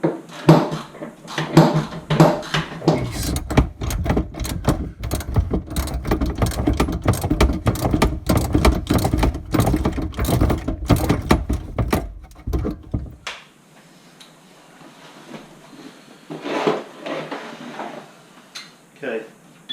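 A plumber tightens a fitting with a tap wrench kit, making a long run of dense metallic clicks and ratcheting clatter at close range, which stops abruptly before quieter rustling.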